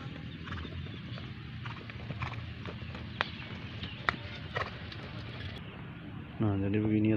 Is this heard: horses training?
yes